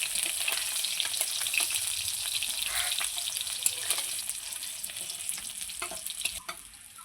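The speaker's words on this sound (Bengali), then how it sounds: "মাছগুলো আমি খুব সুন্দর লাল লাল করে ভেজে নিয়েছি।" Fish frying in hot oil in a home kitchen, a steady close sizzle with frequent crackles and clicks of stirring throughout, and no talking.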